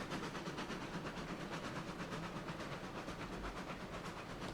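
A steam train in the RailRoads Online game rumbles along faintly, giving a steady, quiet rolling clatter with a soft hiss and no talk.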